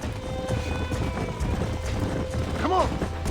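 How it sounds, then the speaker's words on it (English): In the Red Dead Redemption video game, a herd of horses gallops past with dense clip-clop hoofbeats, and a short whinny comes near the end over game background sound. "There's the horses!"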